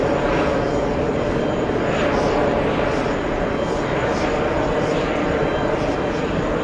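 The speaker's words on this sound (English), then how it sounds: "Let's go for the next takeoff." An SAS Scandinavian airliner takes off from JFK airport, a loud, steady, wide jet roar that holds unbroken throughout.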